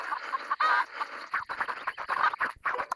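Several video game chickens in WildCraft cluck and squawk close up in quick, overlapping bursts, busy and continuous over a short stretch.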